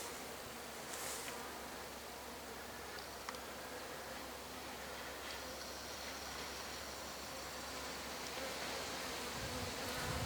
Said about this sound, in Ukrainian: Ось так тут бджоли.